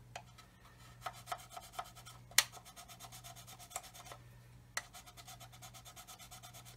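A hard sanding stick rubbing on a small plastic part of a 1/35 scale BUK military vehicle model, a quiet, steady, close rasping with a few sharp ticks and taps and no talk.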